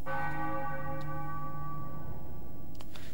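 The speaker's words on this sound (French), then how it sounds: "Quand les cloches ont sonné par trois fois" A church bell in the video game Final Fantasy IX strikes once and rings out with a long humming decay, fairly loud and alone, fading over a few seconds.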